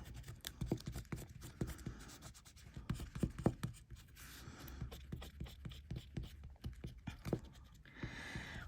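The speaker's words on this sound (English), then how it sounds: "Just stick another little piece of tape on." A small piece of metal tape being stuck on and rubbed down by hand, close scratchy crinkling and rubbing in irregular bursts, with no talking.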